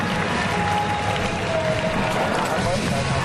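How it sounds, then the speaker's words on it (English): Crowd applause for basketball players at a finals game between Alaska and San Miguel, a steady roar of clapping and cheering filling a large arena, with a voice over the noise. "let's give them a big round of applause"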